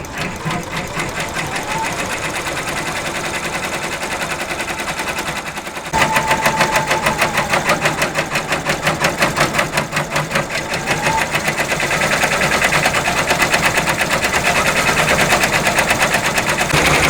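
A home sewing machine runs a dense satin stitch around an appliqué moon, a fast, steady needle chatter that hums continuously and loudly, briefly easing before picking up again at a brisk, even rhythm.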